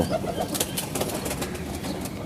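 Pigeon held in the hand, a bitter-tempered bird, giving soft coos and brief wing flutters close by amid light background noise.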